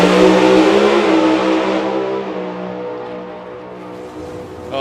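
A drag racing car's engine at a European drag racing finals revs hard and loud, then its roar slowly fades and drops off over several seconds, with no talk.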